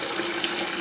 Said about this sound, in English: that's the hot water that's on.